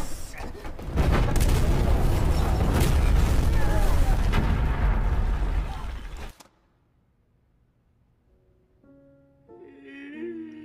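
A bomb goes off in a film scene, a loud rumbling blast with crackling debris that holds for several seconds and then cuts to near silence before faint tones return.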